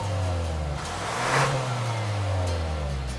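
A 2019 Hyundai Santa Fe with a 2.0-litre turbocharged four-cylinder accelerates on a mountain road in Utah, engine note swelling steadily as it climbs through a gear, close and clear with no talk.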